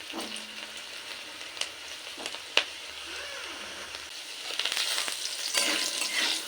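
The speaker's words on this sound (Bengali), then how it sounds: "এবার একে একে সবজিগুলো একটু ভেজে নিই" Vegetables, starting with potato, frying in oil in a kadai on a gas stove, a steady close sizzle broken by occasional sharp spatula scrapes and stirring noises, growing brighter toward the end, with no talking.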